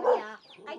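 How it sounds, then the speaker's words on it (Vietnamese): A chicken in a backyard coop gives a short, close cluck, a brief throaty call lasting under a second. "cái chuồng gà nhà bà là có gà là cũng tốt rồi"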